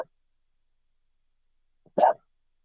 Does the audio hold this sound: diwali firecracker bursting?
no